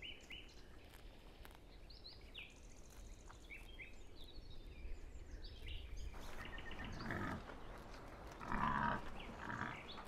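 A warthog grunts out in the wild, low rough snorts rising near the end over faint bird calls and quiet outdoor ambience.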